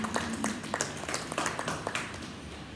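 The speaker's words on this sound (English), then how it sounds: "Clap your hands and celebrate God." A church congregation claps their hands in celebration during a service, a moderately distant, crowded patter of many overlapping claps with sharper individual slaps poking through, sustained throughout without talk.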